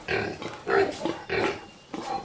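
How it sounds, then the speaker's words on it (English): Pigs on a pig farm grunt in four short, loud bursts with brief pauses between them, close by, where a sow has recently given birth to nine piglets in the pens. "we have a pig that has brought forth 9 piglets"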